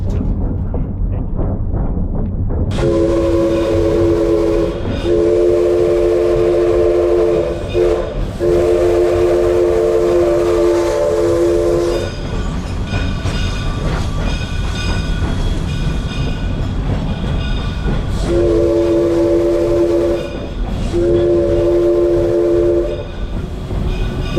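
A train rumbles along loudly up close, heard from right behind the engine, while its horn blasts in several long, repeated blows over the steady rolling clatter of the cars.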